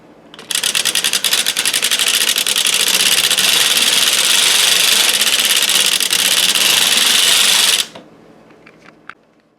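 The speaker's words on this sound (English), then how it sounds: "So I'm going to knit several rounds of waste yarn" A 3D printed knitting machine knits several rounds of waste yarn, giving a loud, steady mechanical clatter with rapid rhythmic clicking for about seven seconds before it stops abruptly, followed by a few faint clicks.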